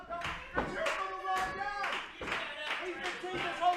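A capacity sports crowd claps and cheers in a steady, dense roar behind a commentator's voice, with a few sharper bursts of clapping rising out of the din.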